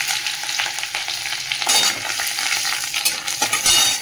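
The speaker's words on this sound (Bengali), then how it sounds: "এর মধ্যে দিয়ে দেবো এই যে আদা কুচিটা আগে তেলের মধ্যে দিলাম।" Chopped ginger frying in hot oil with mustard seeds and curry leaves, a loud close crackling sizzle with stirring strokes running throughout.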